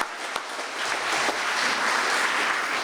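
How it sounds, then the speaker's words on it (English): Audience applause at an award ceremony recognizing a state senator as Senator of the Year, a dense steady wash of clapping that swells after a sharp opening clap and holds loud throughout. "give her a round of applause."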